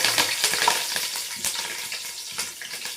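Bay leaf and green chillies crackle and sizzle in hot oil at the start of a home-cooked chicken curry, close and steady with occasional stirring clinks.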